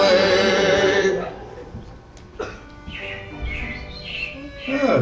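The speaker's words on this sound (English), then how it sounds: "It looks like the Robins are getting ready to celebrate Valentine's Day today." Animatronic robins chirp in a stage show at the Carousel of Progress, bright repeated tweets after a loud musical passage fades out, with voices in the room.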